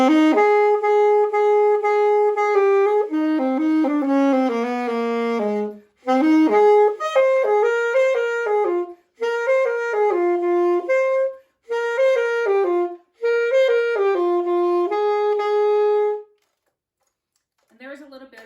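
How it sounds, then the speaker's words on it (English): Saxophone playing a short melodic run of held and moving notes in phrases separated by brief pauses, close and solo with no talking. "there's a little bit of what a saxophone sounds like"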